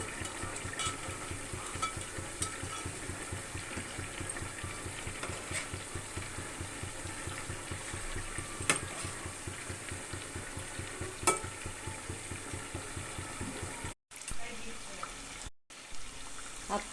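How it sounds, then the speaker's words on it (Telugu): Rava appam, a semolina snack, frying in hot oil with a steady close sizzle, broken by soft rhythmic stirring and turning sounds and two brief pauses near the end. "అప్పాలని ఎర్రగా వేయించుకోవాలి."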